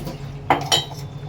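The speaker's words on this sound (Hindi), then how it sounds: "तो मैंने सुनते सुनते अपना सारे जो बर्तन थे ये साफ़ कर लिए" Dishes, pots and utensils being washed, with two close, distinct clinks of metal cutlery against crockery over a low, steady background hum.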